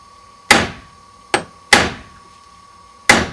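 A hammer drives a chisel into a wooden door frame to fix a lock misalignment, giving four sharp, close knocks at uneven intervals, each ringing briefly, with no voices.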